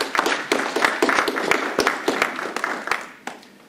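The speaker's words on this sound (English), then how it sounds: "Let's give our speakers a round of applause" Audience applause for speakers at a city master plan meeting, dense clapping from a room full of people that rises, holds steady and then thins out toward the end.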